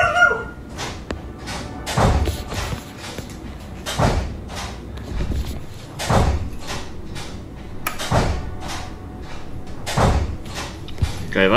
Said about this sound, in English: that's a door repeatedly slamming.